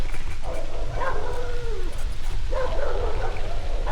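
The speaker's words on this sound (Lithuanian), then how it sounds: "Visų pusių šunys loja." Dogs barking and yelping from several directions at night in a rural Bulgarian area, a steady loud wash of overlapping barks and whines with two clearer bursts of yips, no talk.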